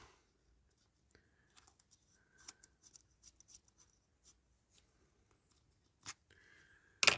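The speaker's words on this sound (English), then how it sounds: "Get that masking trimmed up" Scissors trim masking tape on a 1968–80 Dinky Toys Galactic War Chariot No. 361 being restored, giving a scattered run of small, close snips and crisp paper cuts spaced across a quiet room, with a louder rustle at the end.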